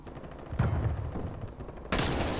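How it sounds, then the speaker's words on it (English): Gunfire in Call of Duty Cold War during a ranked Hardpoint match: dense, rapid bursts of shots rumble through a busy game soundscape, with a louder, sharper volley breaking in near the end. "Put a bullet into him."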